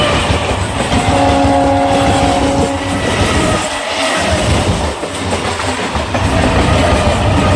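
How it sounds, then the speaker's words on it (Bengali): A train rolls by nearby, its loud continuous rumble and rattling wheels filling the scene, with a brief tonal whine early on. "একটা ট্রেন যাচ্ছে"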